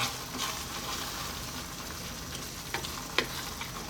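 Steady sizzling and frying of a prawn curry in a pan as coconut milk is added, a continuous hiss with a few soft stirring knocks near the end, no talk.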